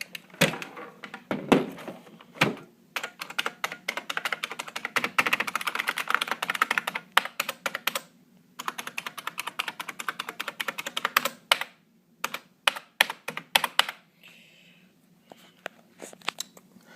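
Someone types on a Unicomp Classic 104 USB Model M buckling-spring keyboard, giving rapid, uneven bursts of loud, clacky keystrokes close by, with short pauses between the runs and nobody speaking.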